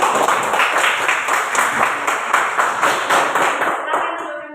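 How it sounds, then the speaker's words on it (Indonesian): Students in an Indonesian classroom applaud after a group presentation, sustained dense clapping that holds steady and fades out at the end. "beri tepuk tangan."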